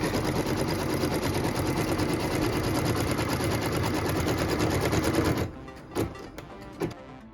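An embroidery machine stitches a tack-down line on quilt-block fabric with a fast, even, rattling hum of needle strokes, loud and close. It stops after about five seconds, leaving a few light clicks.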